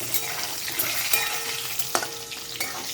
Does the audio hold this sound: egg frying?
yes